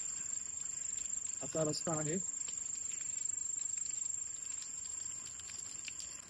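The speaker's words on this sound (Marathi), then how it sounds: "रातकिडे वगैरे ओरडतायत." Crickets chirr steadily in a dark village at night, a constant high shrill drone heard throughout, with a brief voice speaking near the start.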